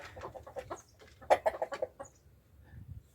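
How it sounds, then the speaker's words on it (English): Several free-range chickens cluck in a short burst of overlapping calls, fairly close, with a low rumble underneath and quieter clucks trailing off. "These are all the chickens."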